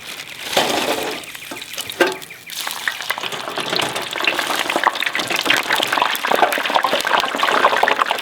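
Triple-cooked chips go into hot oil, setting off a loud, dense bubbling and sizzling that surges after a first splash and keeps building steadily for several seconds, with no talking.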